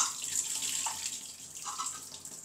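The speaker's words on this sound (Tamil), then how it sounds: "தண்ணி எடுத்து சும்மா ஒரு கப் விட்டுமா? மூணு கப் போறாது, மூணு கப் விடு." Tap water running into a container for grinding rice and lentils, a continuous moderate splashing stream with a few brighter gurgles, heard alone without talk.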